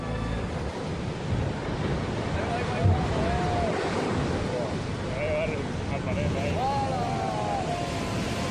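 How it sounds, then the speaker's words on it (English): Massive ocean waves at San Sebastian roar as a continuous broadband wash of surf, steady and loud, with wind buffeting the microphone and faint voices beneath. "Have you ever seen waves this massive?"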